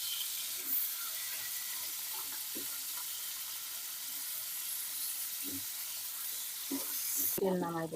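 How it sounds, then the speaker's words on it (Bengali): Crab pieces fry in oil at medium heat for a Sundarbans-style Bengali crab curry, giving a continuous soft sizzling hiss with scattered faint pops and clicks, ending in a short bright clatter. "আমরা কাঁকড়া মাছটাকে মিডিয়ামভাবে ভাজবো খুব বেশি কড়া করে ভাজবো না"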